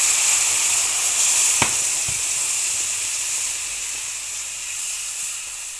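Syrup poured into a hot pan gives a loud, steady hiss and sizzle, with one or two brief sharp crackles early on before the sound settles into an even, slowly fading hiss.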